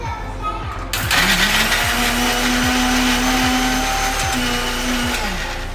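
Electric mixer grinder whirring loudly and steadily as it pulverises spices, mint and dry mango powder for samosa filling in a home kitchen, starting abruptly after a second and running continuously with a faint voice beneath.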